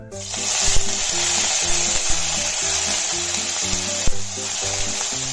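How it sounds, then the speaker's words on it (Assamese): Dried prawns fry in oil in a pan for a dry fish curry, a steady close sizzle with a few scraping stirs and small pops. "ফাৰ্ষ্টতে মই মিছা মাছখিনি অলপ ভাজি লম"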